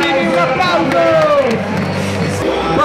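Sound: crowd shouting together at Romics convention

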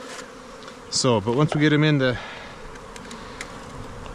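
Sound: honeybees buzzing while being installed into backyard hive

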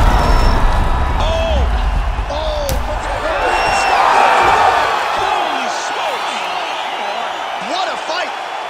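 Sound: crowd cheering a TKO in video game UFC 5

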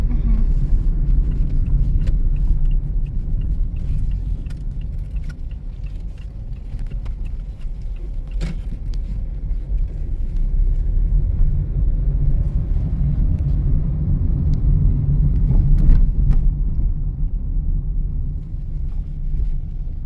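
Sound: passing car traffic

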